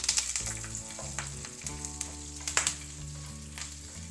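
A tempering of ginger, black pepper, dried red chilies and curry leaves crackles in a little oil, with close, sharp spitting pops over a steady sizzle.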